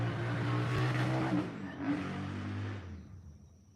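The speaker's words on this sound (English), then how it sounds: "I just had this silly motorcycle go by. So loud." Motorcycle passing by outside, a loud low engine drone that swells, peaks and then fades away over a few seconds, heard from indoors with no talking.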